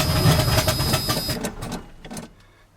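An old 1984 GMC truck engine, primed with gas poured into the carburetor, cranks and catches in a loud rapid chugging clatter, then sputters and dies away into near quiet within a few seconds.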